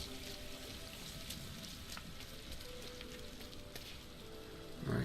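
Steady rain falls in the RiME video game, a dense continuous hiss of drops with occasional louder splashes and no talking.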